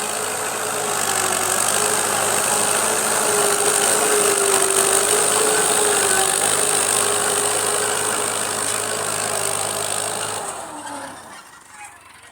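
A tractor engine drones steadily while ploughing a field, a loud, close, continuous mechanical hum that holds for about ten seconds before fading away.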